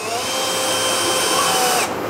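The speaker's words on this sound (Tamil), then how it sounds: "Only drilling machine." An electric drilling machine from a woodworking gadget review runs loud and close in one steady high whir for nearly two seconds, then stops abruptly.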